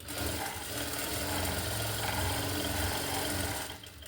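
A sewing machine stitches extra cloth onto sleeve lining, its rapid continuous mechanical hum running steadily close by before stopping near the end.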